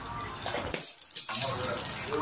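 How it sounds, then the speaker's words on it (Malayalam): Mustard seeds splutter in hot coconut oil in a shallow cheenachatti pan, making a dense, hissing crackle of tiny pops close by. The sizzle briefly dips, then returns louder. "ഇതാ കടുക് പൊട്ടാൻ തുടങ്ങിയിട്ട് അതിലേക്ക് കറിവേപ്പില ഇടാം"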